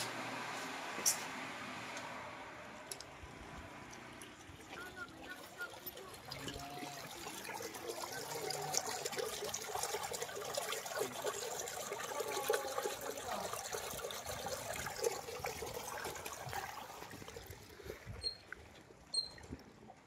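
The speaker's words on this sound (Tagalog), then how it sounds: "Drain sa namo mga tubig." Water draining out of a swimming pool, a faint continuous trickling and rushing flow that holds steady for about twenty seconds, with no voices.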